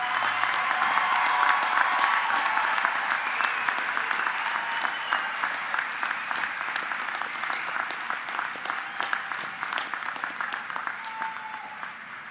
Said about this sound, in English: Can we have one more round of applause for all of our graduates today?